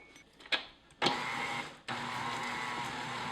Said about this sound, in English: I think I can do it with a stand mixer